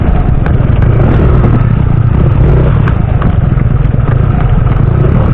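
A motorcycle engine runs steadily on a dry dirt path near an indigenous community in the Sierra, a loud, close, continuous rumbling drone with light rattling and clatter over it.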